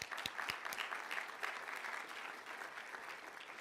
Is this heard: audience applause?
yes